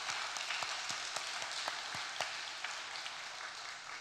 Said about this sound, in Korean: 우리 큰 박수로 한번 맞이해 주시면 고맙겠습니다